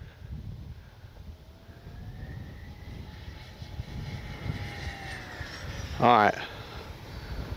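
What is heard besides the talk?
Arrows RC Corsair model airplane engine flying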